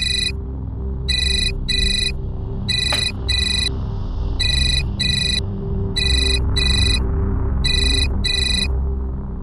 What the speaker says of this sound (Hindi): नीता, तुम्हारा फोन बज रहा है।